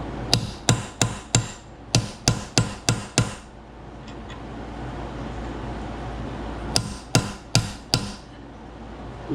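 A small hammer strikes a Jaguar MKII water pump in two bursts of sharp metallic blows, about nine quick, evenly spaced hits, then a pause, then five more, close and loud.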